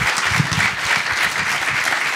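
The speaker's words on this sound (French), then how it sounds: "Je voulais vous inviter à applaudir nos 3 intervenants." A seated audience at an urban talk on pedestrian shopping streets breaks into steady, dense applause for three panel speakers, a continuous wash of many hands clapping close by.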